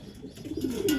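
Racing pigeons arrive on a loft landing board, giving a brief close cooing call with soft fluttering and shuffling that grows louder toward the end of the short moment.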